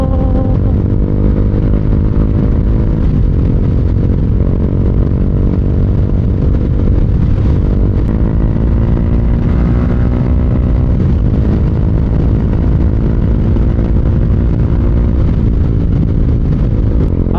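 A 1000cc motorcycle rides along a road, its engine a loud, steady, close drone with wind buffeting throughout and no talking.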